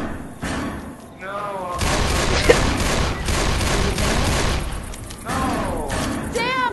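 Rapid gunfire bursts rattle through a Left 4 Dead 2 session, loud sustained shooting with heavy booms and thuds, while players shout and talk over the din.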